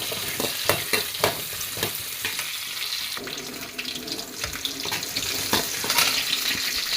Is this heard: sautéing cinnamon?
yes